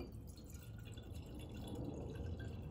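Blue-coloured water pouring into a big jar, a steady close splashing and dripping trickle running the whole time with no talk.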